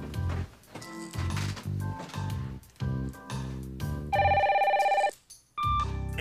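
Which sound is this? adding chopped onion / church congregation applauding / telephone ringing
telephone ringing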